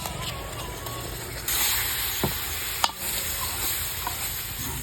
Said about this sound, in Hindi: बेसन हमारा अच्छे से भुन गया है, कलर चेंज हो गया बेसन का भी। इसमें ऐड करेंगे टमाटर की प्यूरी।